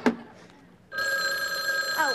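A telephone rings indoors in a sitcom home, a bright electronic ring that starts after a short sharp noise and holds steadily, with a brief voice-like sound near the end.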